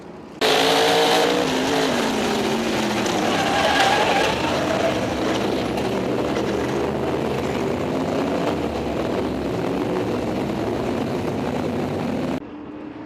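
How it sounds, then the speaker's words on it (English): Modified race cars roaring around a short oval speedway under green flag, a loud sustained blend of engines that swells in abruptly and holds steady for about twelve seconds before cutting off. "The Race of Champions modified coming out of turn 4. Green flag with 5 laps to go."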